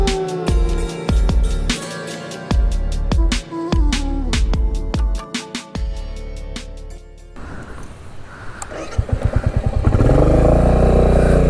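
A motorcycle tackles a rough, broken off-road mountain track on the way to Sandakphu, its engine loud and close, revving and bursting in repeated throttle blips with clattering jolts, then settling into a heavier steady roar.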